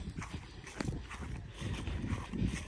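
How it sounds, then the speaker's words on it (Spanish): A horse's hooves clip-clop outdoors at a moderate distance, a few uneven steps mixed into steady background noise. "Mira, un caballo también. Hay caballos"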